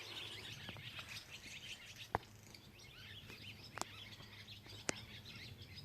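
Small birds chirp and twitter faintly in a park at Seven Islands birding area in Tennessee, with scattered high calls over a soft outdoor hush and a few sharp clicks nearby.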